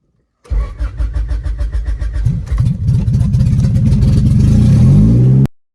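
A Honda CB7 engine cranks with a rhythmic starter churn for about two seconds, then catches and settles into a loud, close, rising rev that cuts off abruptly.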